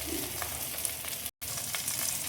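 Spiced fish curry with green chillies, turmeric, salt, cumin and a sour fruit sizzles and fries steadily in a pan while being stirred, loud and close, with a brief cut to silence midway.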